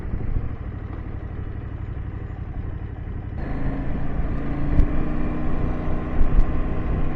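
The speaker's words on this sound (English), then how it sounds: "I'm just listening to the nice sound of my exhaust" Steady low engine rumble of an idling KTM 790 Adventure motorcycle exhaust, which grows slightly louder and fuller partway through, with a couple of brief sharper pops.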